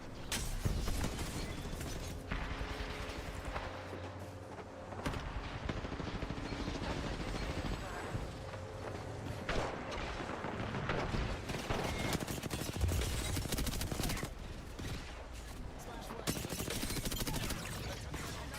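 Rapid gunfire from an Apex Legends grand finals match crackles in dense, overlapping bursts, with clanking weapon mechanisms under a constant busy din.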